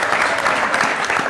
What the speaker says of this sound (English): yeah, we can clap for the Sun-Times.